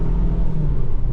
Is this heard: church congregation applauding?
no